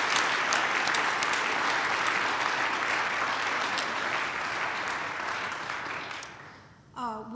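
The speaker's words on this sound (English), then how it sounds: "Please join me in a round of applause for all of the nominees." An indoor audience at an MLK Day human rights celebration claps steadily for award nominees, a dense, even wash of applause that holds for about seven seconds before thinning out at the end.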